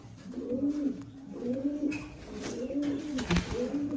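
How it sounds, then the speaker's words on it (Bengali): Hooded Jacobin pigeons coo in a repeating rolling pattern of low, throaty calls, close and fairly loud, with some background clatter and no talking over them. "এটা সুপার হুডের কবুতর"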